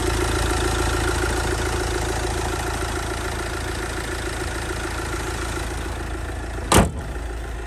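A Kia Soul's 1.6 CRDi diesel engine with a timing chain idles evenly, a steady, close, low rumble with regular knocking pulses, interrupted near the end by a single brief sharp click.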